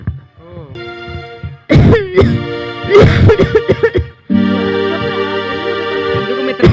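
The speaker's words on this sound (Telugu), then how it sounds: "అంతలా దగ్గుతున్నావు?" A person coughs harshly several times in a comedy skit, with loud, close bursts clustered around the second and third seconds, followed by a sustained tonal, droning sound.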